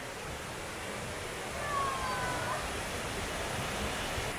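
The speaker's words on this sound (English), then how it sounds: "Now this is what I call a waterfall." A powerful waterfall roars steadily in a broad, even wash of rushing water heard up close, with a faint tone drifting briefly through the middle and no clear speech.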